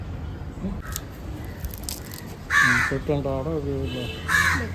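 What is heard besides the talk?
crows cawing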